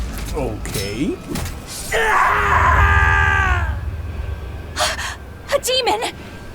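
A demon in Tales of Berseria lets out strained groans, gasps and a drawn-out wavering scream, loud and close, between short vocal bursts.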